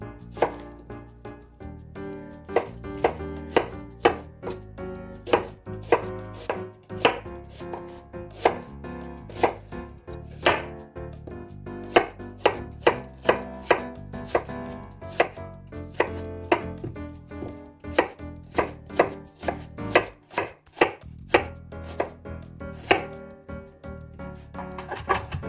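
An onion is chopped and minced with a sharp Tescoma santoku knife on a board, a close run of crisp knocks that starts irregular and becomes a fast steady rhythm, with no talking.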